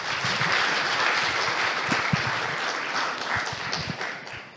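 An audience at an academic research presentation on ignition and flame propagation applauds at the end of the talk, a loud, steady wash of many hands clapping that fades slightly as it finishes.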